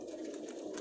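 Pigeons cooing in a Lahore pigeon keeper's loft of racing birds, soft repeated throaty coos, faint and close together over a low background hum.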